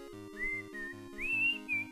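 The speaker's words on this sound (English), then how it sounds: "My microphone doesn't pick up whistling?" A person whistles a short tune with wavering melodic notes, fairly faint and heard alone over steady background game music.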